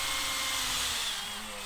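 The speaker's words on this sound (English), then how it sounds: "And then we always pre-drill." Power drill running continuously at close range, pre-drilling at an angle through the edge of a kitchen cabinet into a wall stud, its steady whine easing slightly near the end.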